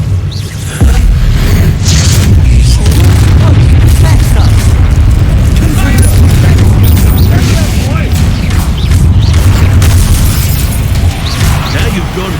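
Repeated Confringo fire-blast spells explode in Hogwarts Legacy, deep booming bursts layered over a loud, sustained rumble of battle, with voices calling out through the din.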